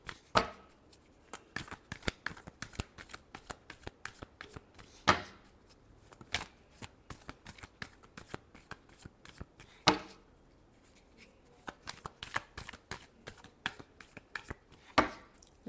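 Tarot cards are shuffled repeatedly by hand for a Scorpio love reading, giving a steady run of quick, dry riffling clicks with periodic louder slaps as the deck is squared, close up and without talk.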